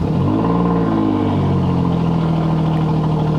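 An Alfa Romeo Giulia engine restarts and settles into a loud, steady idle close by. The engine note falls slightly over the first second and then holds, with no voices.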